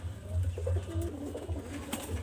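Pigeon cooing nearby in a low, soft, rolling series of coos, steady and close, with faint background noise and no talking.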